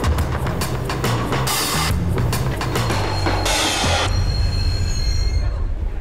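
A narrow-gauge train pulls in with its wheels squealing loudly on the rails in long shrill bursts over a heavy rumble and clatter, close by and continuous.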